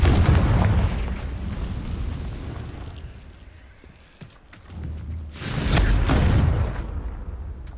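A Confringo fire spell bursts during a Hogwarts Legacy duel: a loud rumbling explosion fades into a lull, then a second heavy blast swells and rolls on, with no talk.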